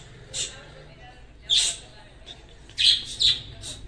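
Pet lovebirds give a few short, sharp squawks, in separate bursts over quiet room noise, moderately loud and close.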